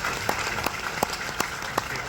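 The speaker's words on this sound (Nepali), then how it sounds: "सबैले उहाँहरूको सम्मानमा जोरदार तालीले उहाँहरूलाई सम्मान गरिदिनु होला" Applause at the annual celebration of Nepal's former police artists' association on Guru Purnima, heard as a thin, steady clatter of hands with a few sharper claps landing at an even beat.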